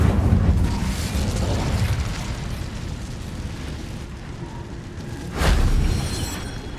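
An Incendio fire spell in Hogwarts Legacy bursts with a broad, roaring whoosh that slowly fades, then flares again in a second loud blast near the end, with no talking.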